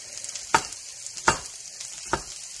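Chopped onion frying in a pan over a faint background sizzle, with three sharp scraping or stirring strokes spaced about a second apart.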